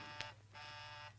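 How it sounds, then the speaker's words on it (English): A door buzzer rings in an old radio comedy set, sounding as two steady electric buzzes, a short one followed by a longer sustained tone, fairly clear over a low background hum. "There's the buzzer."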